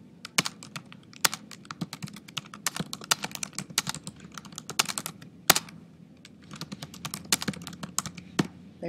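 Fingers typing text on a computer keyboard, a steady near series of light clicky keystrokes with irregular rhythm and occasional louder taps, heard alone without talk.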